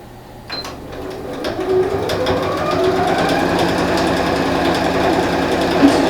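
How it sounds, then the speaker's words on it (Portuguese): A sewing machine stitching strips of fabric for a placemat, starting up after a moment and running as a steady close mechanical whir and rapid needle rattle throughout. "Então eu vou começar costurando daqui da minha marcação para baixo. Venho com a agulha em cima da marcação"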